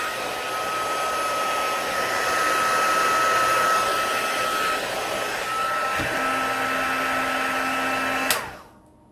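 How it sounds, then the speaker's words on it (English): A heat gun blows hot air to dry alcohol ink, a steady loud whooshing roar running for about eight seconds alone, then cutting off abruptly. "I'm going to just give it a little blast with the heat gun."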